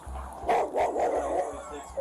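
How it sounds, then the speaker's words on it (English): An out-of-control aggressive dog in a residential neighborhood barks in several sharp, loud bursts close by, mixed with shouting from a police officer confronting it. "called to a neighborhood regarding an out-of-control aggressive dog"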